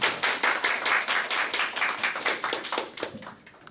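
A lecture audience claps in welcome for a visiting professor, a close, loud burst of many hands in quick rhythmic patter that gradually thins and fades toward the end.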